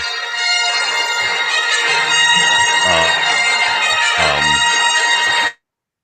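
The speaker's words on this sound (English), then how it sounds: "That's his ringtone." A phone ringtone plays loud and steady with dense tonal, music-like layers for about five seconds, then cuts off abruptly into silence.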